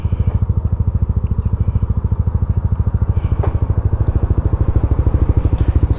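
A Yamaha NMAX scooter idles steadily, its engine and exhaust putting out a close, even low-pitched putter with a rapid pulsing rhythm and no voices over it.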